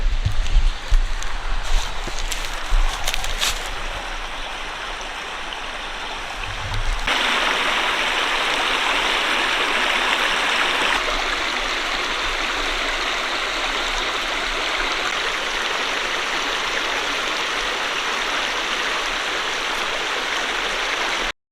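Continuous rushing of a flowing stream in the Ozarks, steady and fairly loud, with a brief rustle and handling noise at the start before the water settles into an even wash.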